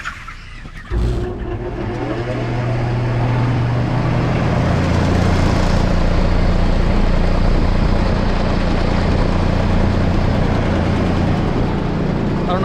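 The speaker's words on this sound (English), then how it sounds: "When the fan kicks on, the belt has a lot of play in it, and the fan ain't doing like it's supposed to do." A poultry house fan with a loose, slack drive belt starts up and runs, kicking on with a thump, then a loud, steady droning roar with rough whirring, and chickens faintly audible beneath.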